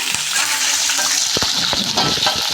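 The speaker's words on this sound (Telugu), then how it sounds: "మిరపకాయలు కరివేపాకు ఒకసారి కలుపుకోవాలి కలుపుకున్నాక వేగనిద్దాం ఎర్రగా" Chillies and curry leaves frying in a pan for an aloo vankaya masala curry, a close, loud continuous sizzle with sharp crackles and a few stirring clicks.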